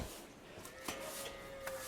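Cattle mooing inside a cowshed on a farm, a sustained low bovine call with a couple of short sharp knocks behind it, heard close with no speech.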